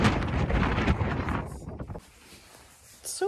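Gusty wind blowing outdoors at a horse barn, roaring loudly against the microphone for about two seconds, then dropping to a low rustle before a short gust returns at the end.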